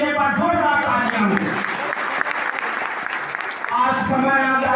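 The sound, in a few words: audience applause at rally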